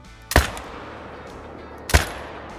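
.308 AR rifle fired in a hunting video game, two sharp loud gunshots about one and a half seconds apart, each with a short booming tail fading over a quiet outdoor background.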